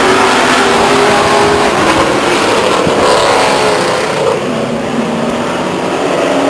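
A field of race cars starts a race at Stockton 99 Speedway, with loud, continuous engines roaring and revving together close by, a constant wall of motor noise with no commentary over it.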